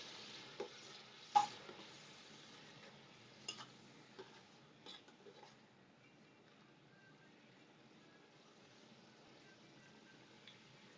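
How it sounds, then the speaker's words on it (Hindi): Chopped tomatoes and green chillies frying in a pan for chana dal pulao, giving a faint, steady low sizzle with a few sharp stirring clicks and scrapes early on, then settling to a quiet continuous fry. "कटे हुए टमाटर और सब्ज़ मिर्चों को शामिल किया जा रहा है जी, और इनको भी यहाँ पे भूनेंगे मज़ीद जी।"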